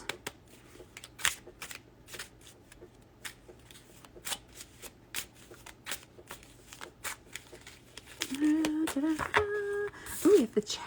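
Tarot cards being shuffled by hand before a single card is pulled, a run of crisp rapid riffling taps repeated through the clip, close and fairly quiet, with a brief voice near the end.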